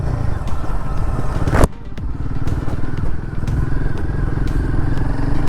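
A Royal Enfield Guerrilla 450 motorcycle rides a rough road on normal tires, its engine droning steadily and close, with one sharp clattering thump from a bump and faint rattles over the ongoing hum.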